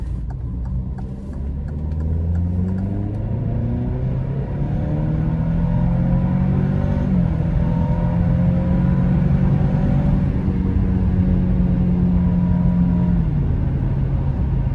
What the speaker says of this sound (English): This car just pulls and pulls and pulls. It feels like the power is never going to run out.